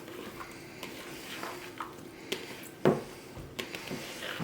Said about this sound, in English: I'm just kind of folding them in that egg.